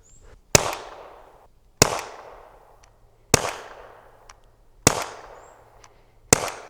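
An Umarex TR50 air revolver fitted with a 25J+ power kit fires five sharp, loud, close single shots at steady intervals of about a second and a half, each with a short ringing decay, alone without talk.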